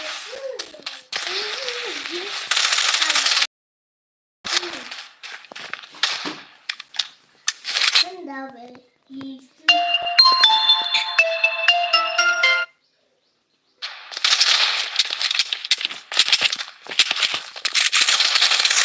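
Gunfire in the Blood Strike battle royale video game: loud, sharp bursts of shots in clusters, broken by short silences and mixed with bright electronic interface tones and chimes.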